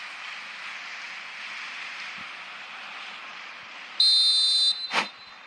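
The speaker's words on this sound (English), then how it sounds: "whistle's gone, presumably for offside" Referee's whistle in the eFootball mobile football game: one loud, shrill sustained blast of under a second cuts over a steady roar of stadium crowd noise, followed by a short burst of crowd reaction.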